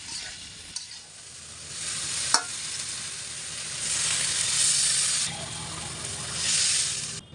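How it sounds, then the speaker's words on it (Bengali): Cauliflower florets and stalks stir-fried with spices in a pan, a steady sizzle broken by a couple of sharp utensil clicks, with the hiss swelling louder midway and again near the end; no voices. "এই ফুলকপি আর ডাটিগুলো দিয়ে দিচ্ছি মশলার সাথে সামান্য একটু এপিটোপিট করে"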